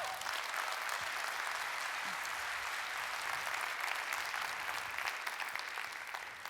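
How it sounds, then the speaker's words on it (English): A conference audience claps steadily for several seconds, a dense, even patter of many hands at moderate loudness with no break. "round of applause"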